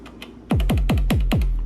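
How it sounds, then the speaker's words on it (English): An analog drum-machine kick from an Elektron Syntakt repeats six times at a steady tempo, each thump deep and booming with a quick downward pitch sweep and a short tail. "I just love the analog kick"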